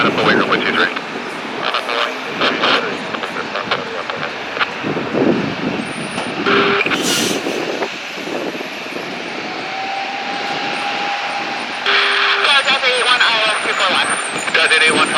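A British Airways jet takes off from runway 23 at Toronto Pearson (YYZ), its engine roar steady and fairly loud for the whole stretch, with tower radio chatter and voices heard over it.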